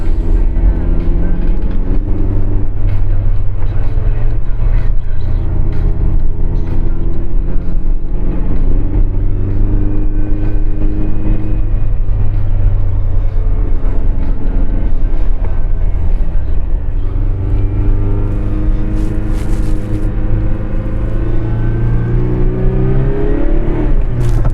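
A Ferrari 328 or 348 berlinetta engine roars loud and close throughout while the car is driven, its strong, steady drone climbing and falling in pitch as the revs change.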